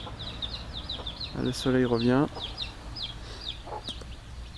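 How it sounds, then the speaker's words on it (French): Garden chickens in a permaculture vegetable plot give short clucks near the start and a louder, drawn-out rooster-like call in the middle, set against faint outdoor background, with a person speaking briefly in French. "on a les poules, voilà, on a les poules là-bas"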